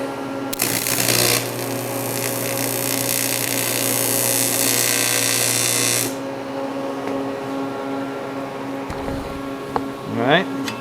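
Tack welding a part in a vise for a Porsche 944, a loud buzzing crackle that runs for several seconds then stops abruptly, followed by quieter workshop clatter.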